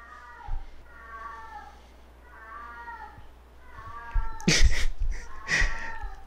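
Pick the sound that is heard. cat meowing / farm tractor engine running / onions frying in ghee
cat meowing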